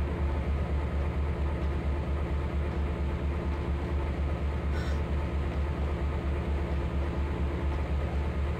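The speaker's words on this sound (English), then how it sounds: "Do I hear different trains somewhere?" Trains run in the Trainz: A New Era simulator game, giving a constant low rumble with a steady hum and one brief, sharper clatter partway through.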